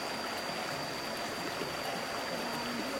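River water flows steadily along a stream crossing in West Sumatra, a continuous close rushing and gurgling with no voices, accompanied by a thin, constant high-pitched tone.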